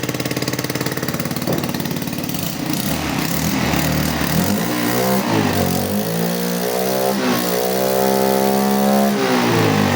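A Yamaha Jog SA36 scooter engine runs loudly and steadily up close, sputtering at first, then its pitch swells and wavers as it revs.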